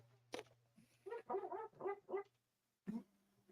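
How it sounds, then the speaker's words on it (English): Dogs bark and whimper at a distance in a home in a short, uneven run of yaps, faint in the background with no talk over them. "I don't know why the dogs are barking"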